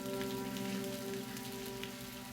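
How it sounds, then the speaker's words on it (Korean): Steady summer rain falls on a quiet mountain temple, dripping from the eaves as an even, continuous patter with a faint constant hum underneath and no voices. "추적추적 비가 내리는 산사의 처마 끝에 작은 종 모양의 풍경이 달려있다."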